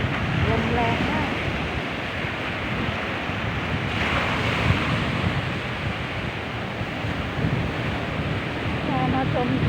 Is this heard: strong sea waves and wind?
yes